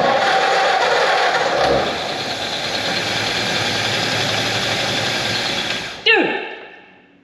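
A 1944 Ford Flathead ambulance engine, sitting unused for over 30 years, runs loud and steady on the choke for about six seconds, then cuts off abruptly and a fading metallic ring follows.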